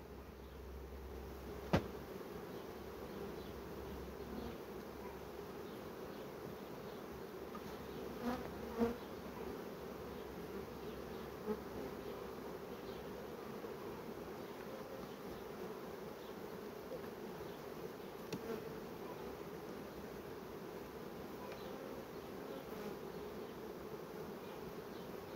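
Honey bees hum in a continuous, even drone around an open hive with brood frames, with a few faint knocks and clicks.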